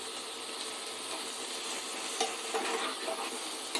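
Vegetables stir-fried in a pan give a steady, close sizzle, with a few sharper scrapes and clinks of the spoon against the pan and no voices.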